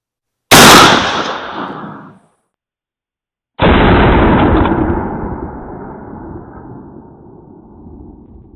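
Two loud 12 gauge shotgun blasts firing hollow point slugs at an outdoor range, each a sharp close report with a rolling decaying tail, separated by a second of silence.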